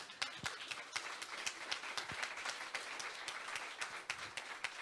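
Audience applause fills a talk event, a steady wash of many hands clapping at close range with a few sharper individual claps standing out, sustained evenly throughout.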